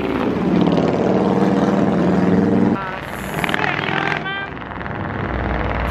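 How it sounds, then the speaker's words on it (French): Motorcycle passing on a city street: a loud, rough engine roar dominates the first few seconds, then drops away, leaving quieter traffic and street noise. "Tellement une plaie urbaine, là, les motos,"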